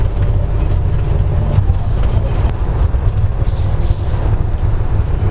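A Hyundai County bus cruises at about 40 km/h just after an easy shift into fourth gear, giving a steady low engine and road rumble with a windy hiss throughout.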